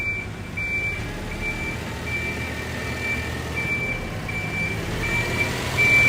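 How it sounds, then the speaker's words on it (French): A garbage truck reverses on a Brussels street on collection day, its backup alarm repeating regular high beeps over a steady engine rumble and traffic noise, growing slightly louder toward the end. "on a encore les bruits des camions poubelles"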